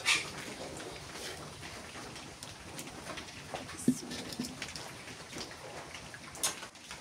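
Rain falls steadily on a rural village, a soft continuous patter with scattered drops and a few brief bird calls.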